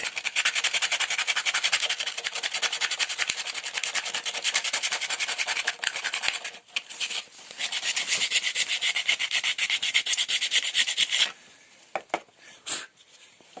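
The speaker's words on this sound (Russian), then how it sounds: "Сейчас еще слегка наждачки тут." Sandpaper rubs over a wooden Yakut knife sheath in fast, steady back-and-forth strokes, close and continuous for about eleven seconds, then a few short separate scrapes.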